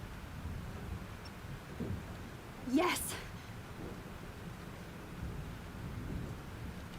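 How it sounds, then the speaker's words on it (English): Thunderstorm in the game Life is Strange: steady rain hiss with a sharp thunder crack near the middle that rumbles briefly, while a voice speaks over the storm. "This storm is real."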